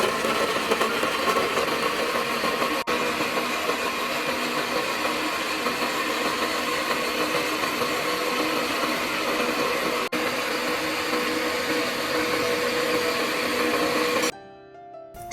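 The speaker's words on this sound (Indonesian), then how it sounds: "Tambahkan 150 ml air, kemudian kita blender atau kita haluskan." A blender whirs continuously as it purees cut pandan leaves with 150 ml of water, a loud, steady motor drone that holds for about fourteen seconds before cutting off abruptly.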